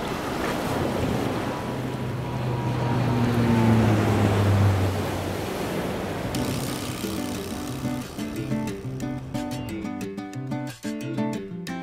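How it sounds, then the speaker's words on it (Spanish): Ocean surf breaks on the sand-bottomed beach break at Playa Venao on Panama's Pacific coast, a continuous loud wash with wind buffeting the microphone and a brief tonal drone early on. "Sus olas de izquierda y de derecha rompen sobre un fondo de arena."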